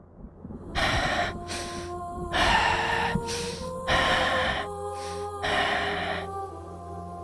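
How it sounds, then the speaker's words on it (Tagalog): Exhausted warriors panting after a battle, several heavy breaths and gasps in a steady rhythm, close and moderately loud, with low dramatic background music underneath. "Sa pag-uusap ng dalawa ay hingal naman ng mga mandirigmang alangan matapos ang labanan."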